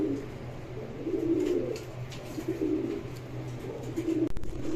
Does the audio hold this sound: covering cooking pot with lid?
no